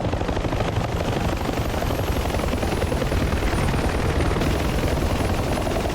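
Helicopter rotor thumping steadily at close range through a DCS combat flight mission set in the 1982 Falklands War, a dense, loud and continuous drone with sharp bursts of gunfire mixed in.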